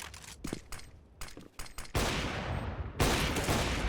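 Gunshots fired through a box in CS:GO, a few sharp separate shots early followed by two long bursts of sustained loud gunfire, with no talk.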